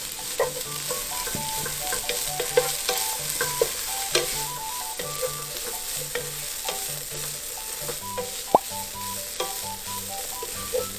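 Frozen tofu, ginger, carrot and wood ear mushroom stir-fry in a wok, with a continuous sizzle broken by rhythmic scraping and clacking of the spatula against the pan.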